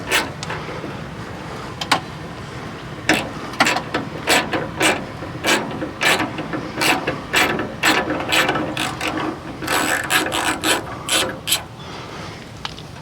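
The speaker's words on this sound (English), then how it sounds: "And then start taking out the bolts." A ratchet wrench removes 10mm bolts from a Ford Bronco fender, producing a steady series of sharp, close clicks in quick rhythmic strokes with short pauses between.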